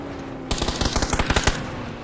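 A rapid burst of about a dozen assault rifle shots rings out in PUBG as a player fires at a vehicle's tires. The shots are sharp and close over steady game background noise.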